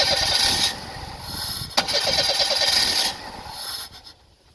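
A hard-starting engine low on fuel is cranked and catches, running roughly with a sharp burst near the middle before dying down toward the end, close and loud with no talk.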